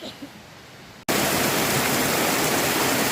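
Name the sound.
North Cheyenne Creek flowing under a bridge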